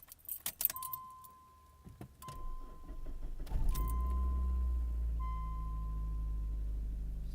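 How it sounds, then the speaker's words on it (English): A car that sat with a dead battery, keys jangling then the engine cranking and catching, settling into a steady idle with a slight lifter tick at startup. "Still starts. You can hear it has a little bit lifter tick"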